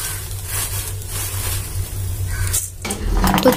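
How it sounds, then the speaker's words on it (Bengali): Flattened rice fries in oil in a small wok on a gas stove. It makes a close, continuous sizzle with light metallic clinks of a utensil against the pan and a brief break near the end. "আর চিড়েটা ভেজে দেবো, তেলে ভাজবো আমি"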